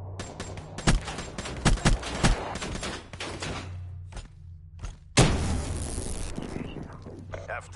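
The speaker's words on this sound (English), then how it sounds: "Incoming frag!" Frag grenade and gunfire in a Call of Duty Black Ops 3 match on Nuketown: sharp close shots and thuds, then a loud blast with a trailing roar near the end, under game voice chatter.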